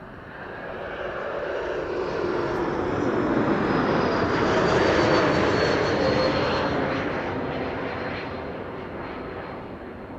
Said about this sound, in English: KLM flight 1354 arriving from Prague in the Czech Republic.